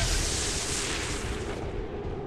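A weapon discharges in XCOM 2 as a loud, broad booming blast that fills the whole moment and holds steady, then tapers slightly toward the end.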